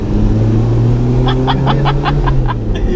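Vauxhall Chevette engine held under throttle, a steady loud drone with harmonic tones that rise slowly, filling the whole moment with no talk and a short burst of clicking toward the end.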